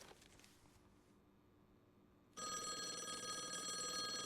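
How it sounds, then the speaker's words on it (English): Telephone bell ringing in the game Call of the Elder Gods starts suddenly after quiet ambience, a loud continuous electric ring sustained to the end. "Phone's ringing."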